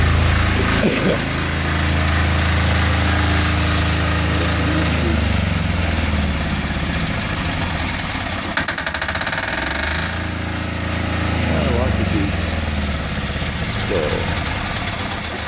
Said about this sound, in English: Curtis is running his tractor again for some reason